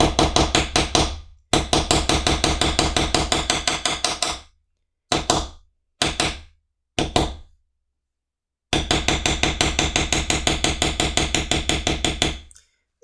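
A mallet taps a metal beveling stamp into carved leather on a book cover with poppy flowers, close and sharp, in fast regular bursts of strikes broken by short pauses.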